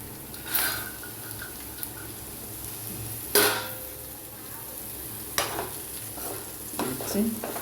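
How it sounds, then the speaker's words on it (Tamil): Green gram sautéing in a pan on the stove, a steady close sizzle punctuated by several clanking stirs of a spoon against the pan, no talking. "சிம்மிலே வச்சு வதக்குங்க ஒரு 2 நிமிஷம்"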